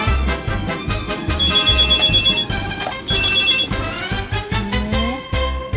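A telephone rings in a watch repair shop, loud and close, in repeated bursts of bright electronic tones with short pauses between them, heard alone without voices.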